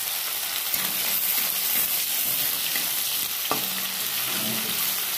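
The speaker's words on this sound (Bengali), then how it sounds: "এবার একটু ভেজে নেব কাটা পেঁয়াজ, লাল লাল করে," Chopped onions fry in a pan over a gas flame, giving a steady, soft hiss and sizzle with occasional stirring clinks and no one talking.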